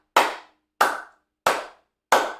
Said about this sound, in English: They basically have you clap your hands.